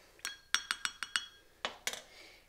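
A spoon clinks against a glass while stirring a mixture tinted with food coloring for a dancing-noodles experiment, giving a quick run of about seven bright, close taps followed by two more after a short pause.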